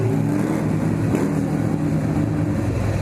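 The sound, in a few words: motorcycle engine, likely Harley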